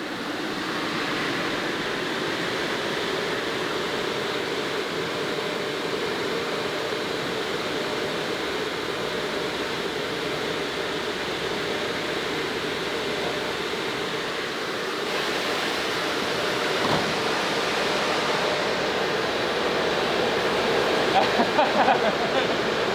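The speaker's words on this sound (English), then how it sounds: "I just tested the fans for the first time" Radiator cooling fans on a Pikes Peak race car roar steadily, pulling in air as a broad continuous rushing noise that swells slightly louder toward the end.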